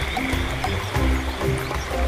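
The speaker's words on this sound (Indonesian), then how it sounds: "Katak jantan akan mengeluarkan suara yang khas sebagai tanda perkawinan" A male red-eyed tree frog (Agalychnis callidryas) gives its mating call, a steady run of low croaks repeating over a constant watery, rustling rainforest background.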